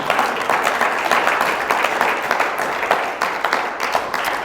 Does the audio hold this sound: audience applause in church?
yes